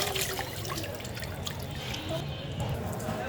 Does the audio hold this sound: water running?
yes